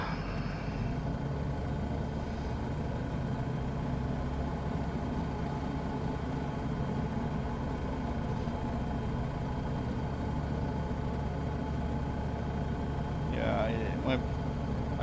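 Steady drone of a KitFox light aircraft's engine in Microsoft Flight Simulator, flying over Idaho backcountry, holding an even level throughout with a brief higher-pitched burst near the end.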